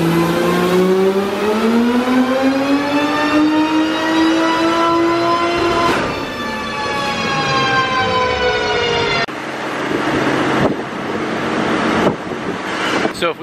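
A big-turbo BMW 335i engine screams up through the revs on a dyno, its pitch climbing loud and sustained before dropping and rising again with gear changes and turbo whoosh.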